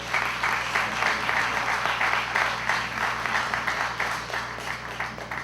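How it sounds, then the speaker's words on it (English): Audience applause at a foundation pour event for a construction project, steady dense clapping from a sizable crowd, heard over a low constant hum. "So if we can give a round of applause to them"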